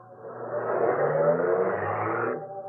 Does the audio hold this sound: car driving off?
yes